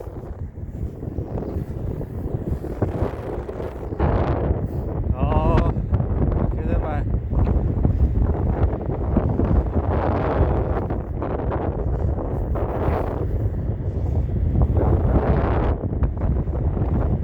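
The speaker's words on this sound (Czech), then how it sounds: "Ať tady fouká vítr" Wind blows and buffets loudly against the microphone while riding a Segway Ninebot E3 Pro electric scooter outdoors, a continuous roaring rush that swells in gusts, with a person speaking briefly over it.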